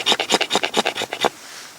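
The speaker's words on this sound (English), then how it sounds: "Just use the spine of my knife with this fat wood." A knife spine scrapes fatwood into shavings in about ten quick, rhythmic rasping strokes, close and crisp, then stops.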